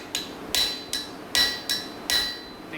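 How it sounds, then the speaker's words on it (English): A chisel is struck by a mallet while carving, giving six sharp, close knocks at a slightly uneven pace, each with a short ringing tail, with no talking. "I'm putting a little bit of an angle to my chisel"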